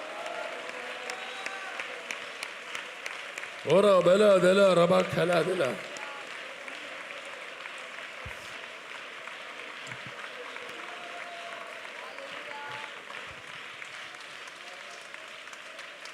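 Congregation clapping hands during Sunday church worship, a continuous crowd applause bed running under a preacher's amplified voice, with a brief burst of loud sung or chanted vocals partway through.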